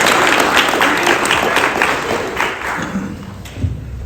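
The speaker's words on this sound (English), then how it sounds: "another round of applause" Wedding guests applaud at a reception after a speech, a dense, loud wash of clapping that carries through the whole stretch and thins a little toward the end, with a few thumps underneath.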